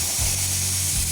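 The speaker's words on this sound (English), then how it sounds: "We're using our Lincoln Electric Tomahawk 1000 plasma cutter to remove the stock spare tire" Lincoln Electric Tomahawk 1000 plasma cutter slicing through a Ford Ranger's steel spare tire mount, a steady close hiss and roar of the arc with a low electrical hum pulsing underneath, loud and continuous.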